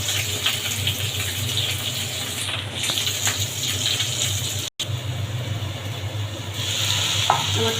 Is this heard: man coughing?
no